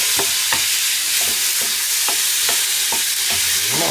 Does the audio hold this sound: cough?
no